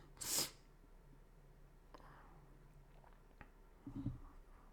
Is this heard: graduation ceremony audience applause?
no